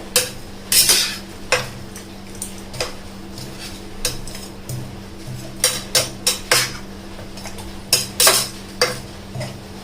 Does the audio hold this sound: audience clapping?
no